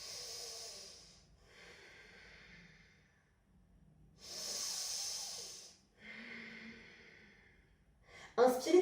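Slow, audible breaths during a yoga session, with long airy inhales and exhales alternating in a calm rhythm and a brief louder rustle at the end.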